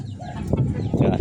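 A rooster kept on a rooftop gives a few short, close clucks over soft background noise.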